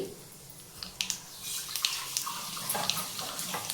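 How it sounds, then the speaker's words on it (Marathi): Cumin and mustard seeds crackle in hot oil for a cluster bean dish, a soft steady sizzle broken by scattered sharp pops and spits, quiet and close. "आता मोहरी आणि जिरं चांगलं तडतडायला लागलेलं आहे"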